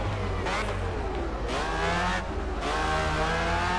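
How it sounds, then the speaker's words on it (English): Ferrari race car in the GT Legends racing game roaring past, its engine a steady loud drone with shifting pitch and brief revving dips, close and continuous throughout. "That Ferrari's just gone past us again."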